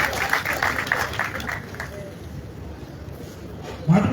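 Applause from an audience for Dr. Ante at a Yoruba gathering: a brief burst of clapping at the start that fades into a murmur of voices, with a short louder sound at the end.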